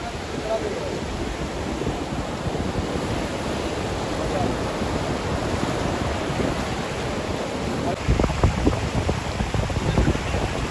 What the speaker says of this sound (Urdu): یہ جو ابھی آواز سن رہے ہیں یہ ان لہروں کا شور ہے